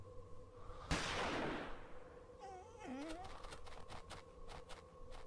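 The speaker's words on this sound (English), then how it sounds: "The gunshot seems..." A single loud gunshot in the Murder on the Orient Express video game, a sharp broadband blast decaying over about a second, followed by quieter tonal game sounds and faint clicks.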